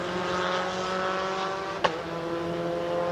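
F4 race cars on a racetrack in Southeast Asia, a steady loud engine drone with sustained pitched whine close by, broken by a brief sharp transient midway.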